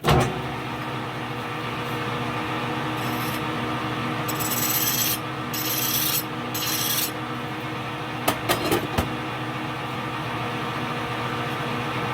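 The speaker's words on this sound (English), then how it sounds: "Clean up with the file and the Scotch-Brite." A metal part is filed and scrubbed with a hand file and Scotch-Brite. A steady rasping rub runs throughout, with louder bursts of strokes midway and a few sharp clicks near the end, close up.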